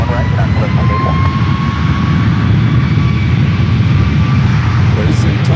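A jet airliner roars steadily and loudly at San Francisco International Airport, a continuous broad engine rumble with a whine on top throughout, and no break in the noise.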